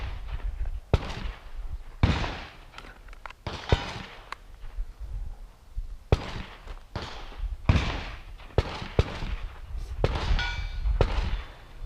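Handgun fired during shooting practice, a dozen or so sharp loud reports spaced irregularly over about twelve seconds, each a hard crack with a brief tail, nearby and with no talking.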